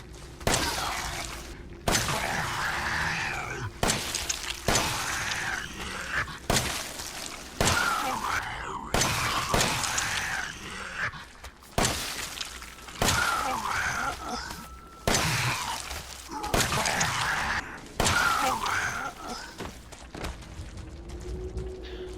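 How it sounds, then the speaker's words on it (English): Glock 17 pistol fired repeatedly in Resident Evil 7 against a creature, about a dozen sharp loud shots spaced a second or two apart, each followed by groans and squelching impacts. "Let's go ahead and test the Glock 17 on a molded."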